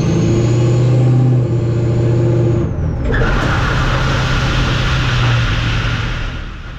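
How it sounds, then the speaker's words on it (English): A vehicle towing a trailer brakes hard, with a loud steady engine and road roar that shifts abruptly midway as the brakes bite, followed by broad rumbling noise with no talk. "When I slam on the brakes, the front axles are locking up, but the rear ones keep on rolling."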